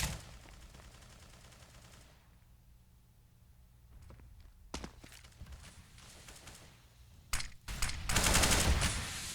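Gunfire in a Counter-Strike match on the Mirage map: a quiet stretch broken by sharp isolated shots, then a louder burst of rapid fire near the end.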